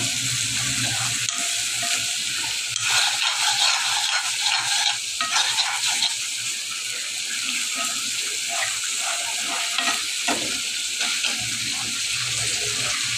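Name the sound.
teasel gourd (kakrol) frying in oil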